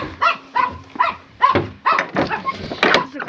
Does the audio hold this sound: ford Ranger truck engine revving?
no